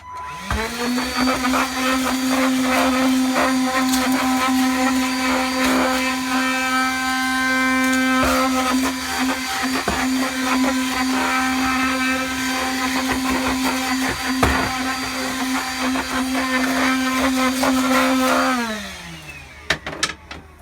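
A shop vacuum runs in a workshop during a Shadow Trooper armor build, a loud steady motor whine with occasional clunks as debris is sucked up, then spins down at the end.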